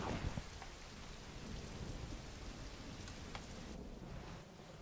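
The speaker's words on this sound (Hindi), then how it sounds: "इस बारिश को भी अभी आना था।" Steady heavy rain pours down with a deep rumble of thunder underneath, filling the whole stretch at an even level before easing slightly at the end, with no voices.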